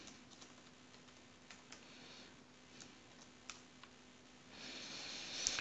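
Quiet clicks on a computer keyboard come in short bursts and single keystrokes, soft and close, with a faint steady hum underneath and a brief rise in noise near the end.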